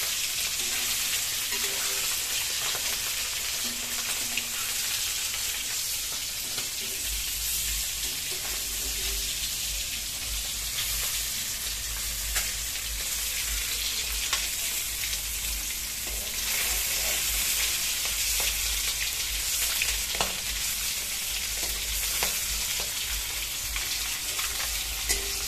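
Eggs sizzle steadily in hot oil for an egg and potato malai curry, a continuous close crackle with faint stirring and no talk.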